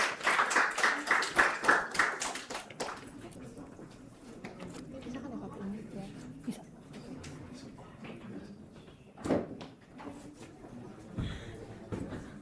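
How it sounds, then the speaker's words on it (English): Scattered clapping from a small audience at a business process management showcase: a quick run of distinct, fairly close claps for a couple of seconds, then fading into quiet room noise with a few faint knocks. "Give an applause for EU team."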